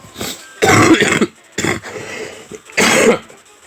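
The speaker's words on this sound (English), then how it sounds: "I've been having that cough lately." Several loud, close coughs and throat-clearing bursts from a man who has been ill, coming as three or four separate harsh hacks with brief quiet gaps between them.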